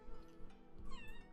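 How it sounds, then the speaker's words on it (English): A house cat meows close by in a single drawn-out, rising call over a low background hum. "Why are you meowing?"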